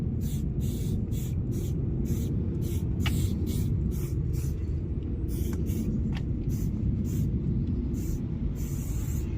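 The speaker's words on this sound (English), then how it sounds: "Done very well, Lily, for your first attempt at spraying." Spray paint can applying graffiti on a wall in a series of short hissing bursts of varying length over a constant low traffic rumble.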